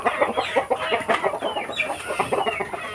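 A flock of native chickens clucking close by on a provincial farm, many overlapping short clucks in a busy, steady chatter, with no talk over them.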